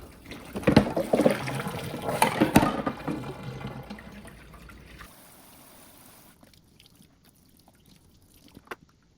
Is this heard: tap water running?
yes